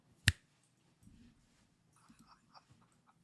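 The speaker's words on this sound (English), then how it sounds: "When I snap my fingers" A single sharp finger snap, close and crisp, followed by soft rustling and faint indistinct murmurs.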